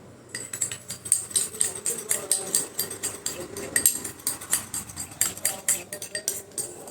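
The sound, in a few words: spoon mixing honey with lemon juice in a bowl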